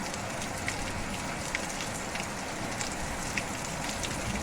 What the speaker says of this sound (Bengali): কীরকম বৃষ্টি পড়ছে দেখো